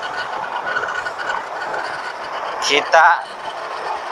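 Train rolling along a railway line running through the middle of a road near the Tapal Kuda flyover at Tanjung Barat, a broad steady rumble with a brief metallic squeal, heard under someone talking.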